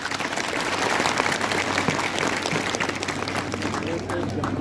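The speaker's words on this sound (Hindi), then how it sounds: "डायरेक्टर साहब के लिए जोरदार तालियां हो जाए।" Dense, steady applause from an audience at a higher secondary school enrollment drive event, welcoming the director; a continuous wash of many clapping hands, close and loud throughout, with some crowd voices mixed in.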